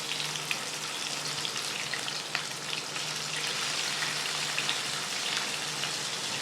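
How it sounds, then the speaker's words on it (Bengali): Whole bata fish frying in hot mustard oil, a steady close crackling sizzle with scattered pops throughout. "একে একে মাছগুলো গরম তেলে ছেড়ে"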